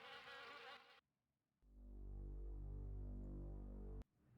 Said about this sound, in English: The old car is perfect nesting ground for wasps